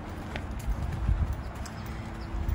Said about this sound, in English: Turnout is closed, so we're just taking a little walk with Snoopy